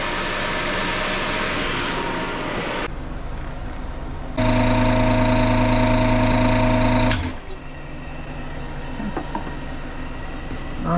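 An Airstar 22 air compressor running, a loud close mechanical drone with a steady rhythmic hum that cuts out sharply, leaving a quieter room with faint knocks and clanks.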